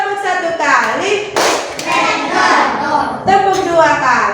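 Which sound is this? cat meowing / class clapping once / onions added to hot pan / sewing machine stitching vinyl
class clapping once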